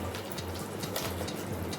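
Water sloshing and running inside a mixer jar, a short continuous splashing rinse heard up close.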